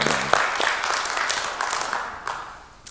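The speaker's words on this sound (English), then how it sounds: "Give yourselves a round of applause." A church congregation applauds at a Sunday service, a dense burst of clapping that starts loud and tapers off over a few seconds.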